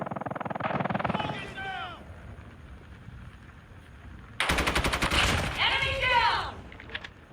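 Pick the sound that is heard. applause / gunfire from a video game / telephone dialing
gunfire from a video game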